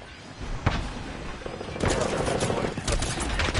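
Automatic gunfire in the Apex Legends battle royale game, a sharp shot then sustained bursts of rapid fire that grow denser toward the end, with a voice talking over it.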